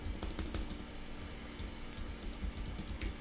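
Quiet, steady typing on a computer keyboard, a continuous run of soft key clicks close by with no voices.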